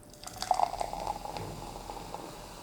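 Egyptian and imported 7Up soda poured into glasses at the same time, a soft steady stream with fizzing bubbles, close and fairly quiet, with no talking.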